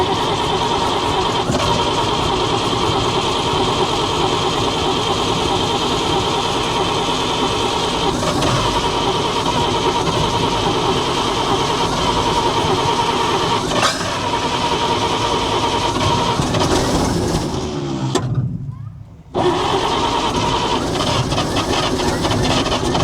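A 1942 Chevrolet 4WD truck with a flooded engine cranks on its starter, a loud, steady, continuous grinding drone that runs for a long stretch, then drops away briefly before resuming.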